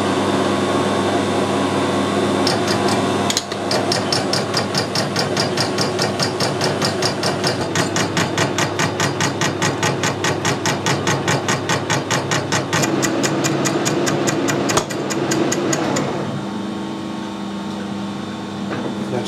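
A metal lathe turning crank balance weights at 90 RPM on an interrupted cut, giving a loud, steady machine drone with a fast rapid tapping rhythm from the cutter striking the gaps, running continuously without pause and with no talk over it.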